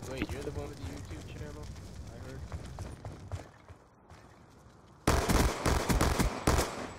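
Close bursts of Beretta gunfire in a first-person shooter crack repeatedly, first under a speaking voice and then loud and dense near the end.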